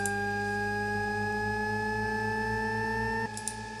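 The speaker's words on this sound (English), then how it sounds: "these are just sound generators, right? So I can start this effect." A steady synthetic electronic tone with bright harmonics from a DJ software sound generator effect drones for a few seconds, then shifts slightly and fades into a short echo.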